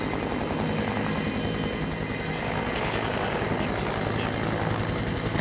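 A helicopter lifting logs up through a forest canopy during heli-logging, a loud continuous rotor thrum and engine roar throughout with no break.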